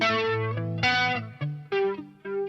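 Electric guitar played through a flanger effect on a Fractal FM3 Turbo, a short run of sustained, distorted notes with a sweeping, whooshing flange, loud and close with no talking.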